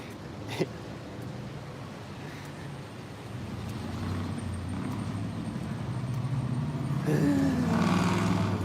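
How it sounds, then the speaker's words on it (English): A loud motorcycle passes on a city street, its engine roar swelling gradually over several seconds amid steady traffic rumble. A sharp bump sounds early on, and a brighter whine rises near the end. "It's just a loud motorcycle right there."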